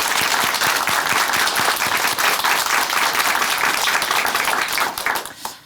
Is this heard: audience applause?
yes